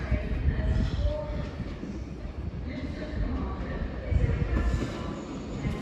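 A train arriving at Exeter St Davids station on a Saturday morning, a steady loud rumble of wheels and engine with some squeal, close by and continuous, with no voices.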